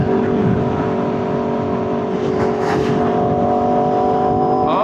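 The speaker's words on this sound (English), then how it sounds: "the noise is getting up there now that we're on the freeway" Steady, loud roar of wind rushing past a motorcycle helmet at freeway speed, with a constant engine and road drone underneath, unbroken for the whole stretch.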